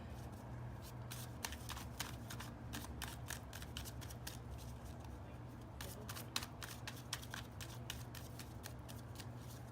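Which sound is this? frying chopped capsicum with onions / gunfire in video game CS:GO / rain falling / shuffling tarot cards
shuffling tarot cards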